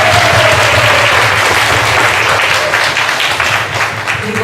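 A church congregation at a summer retreat morning service breaks into loud, sustained applause, a dense wash of clapping that tapers slightly near the end, with a faint tonal hum beneath.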